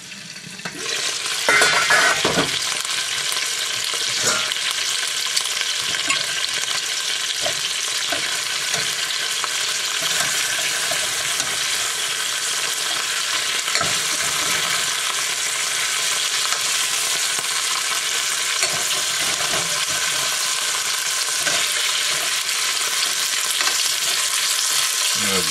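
Chicken pieces and Chinese sausage sizzle steadily in a hot pan, with occasional scrapes and clatters as they are stirred and turned, loud and continuous with no talking.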